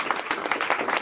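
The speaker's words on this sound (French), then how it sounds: "On peut l'applaudir quand même." An audience at a student talent contest claps for a prize presenter walking up, a brief burst of moderate applause with individual claps audible in a quick irregular rhythm.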